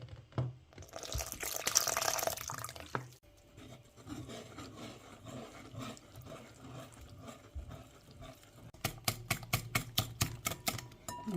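Water poured into a batter of spices, paprika and nutmeg, then whisked: a brief gushing pour followed by quiet scraping and a fast run of sharp tapping strokes, close by with no speech.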